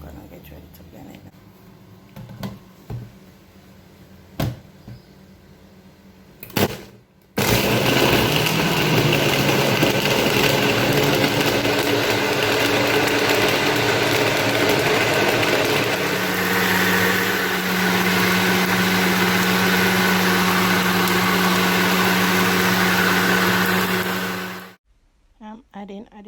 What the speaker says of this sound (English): Alright, so I'm gonna get ready to blend this now.